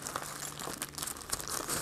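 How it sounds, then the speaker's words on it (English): A small plastic bag crinkles and rustles up close in irregular bursts of crackling, with no voices over it. "In addition, I have a little plastic bag"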